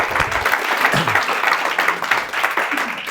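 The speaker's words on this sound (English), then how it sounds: "Give her a round of applause." A group claps steadily for a woman after her story at a morning session, dense, even applause with a few voices and whoops mixed in, close and fairly loud.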